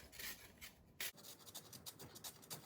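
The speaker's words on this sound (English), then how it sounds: "Right now, I'm just taking the zest of the lemon" Lemon zest being grated on an ordinary kitchen grater, a steady run of close, scratchy rasping strokes repeating quickly and evenly with no talking.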